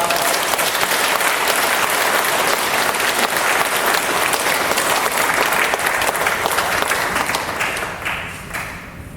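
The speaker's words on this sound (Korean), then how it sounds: "뜨거운 감사와 위로의 박수를 부탁드립니다" A church congregation applauds after a sermon, dense sustained clapping filling the room, loud and steady for about eight seconds before tapering off at the end.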